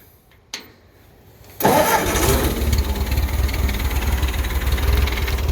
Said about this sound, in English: So let me go ahead and start this up.